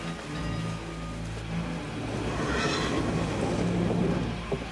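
A moving train rumbles steadily as a sound effect in a Dracula audio drama, with a low continuous roar and rhythmic rolling wheels that swell slightly toward the end, with no voices over it.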